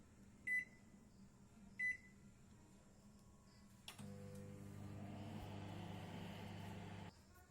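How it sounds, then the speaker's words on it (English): A microwave oven heats an eggless chocolate mug cake, starting with two short beeps as buttons are pressed, then a steady low electric hum with a rattling drone that runs for about three seconds before stopping. "Microwave it for 1 minute."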